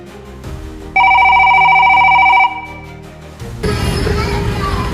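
A telephone rings during a call, a steady electronic two-tone ring lasting about a second and a half at close range, then stopping; muffled room noise and a voice come before and after it.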